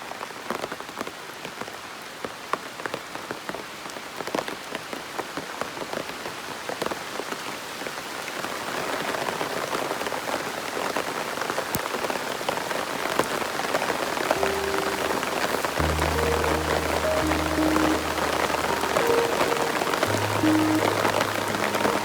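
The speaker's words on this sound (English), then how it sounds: "This rain is bad" Heavy rain pours steadily onto banana leaves on a farm in Whitney, Manchester, Jamaica, a dense continuous patter that grows louder partway through, with a low rumbling hum joining near the end.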